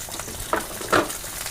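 Oil heating in a kadai for Bengali prawn curry gives a soft, close sizzle with a couple of brief crackling bursts, fairly quiet and without talk.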